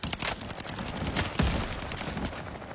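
Rapid video game shooter gunfire rattles in bursts over a steady backdrop of game sound effects, moderately loud, with no speech.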